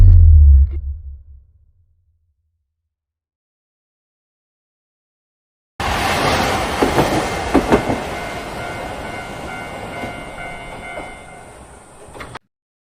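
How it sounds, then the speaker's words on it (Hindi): After a low rumble fades into near silence, a loud train rushes past on a railway track in an anime scene, a dense roaring clatter with rhythmic wheel beats that holds steady and then cuts off abruptly. "और तभी वहाँ से ट्रेन आती है"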